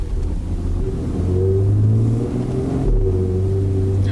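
Low, steady engine rumble from a Porsche Panamera 4 E-Hybrid cruising along, with a smooth hum that swells slightly and then settles. No one speaks.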